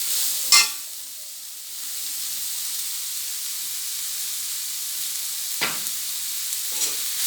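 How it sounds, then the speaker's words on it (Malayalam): Crushed garlic with salt sautéing in a pan for chicken ada makes a continuous bright sizzle close by, with a sharp stir or scrape near the start and a few more later, and no voices. "ഇത് നല്ലപോലെ ഒന്ന് വഴറ്റാം."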